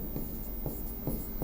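Chalk or marker strokes on a board during a Hindi language lesson, four short scratchy strokes spaced at a steady pace against quiet room noise, with no talking.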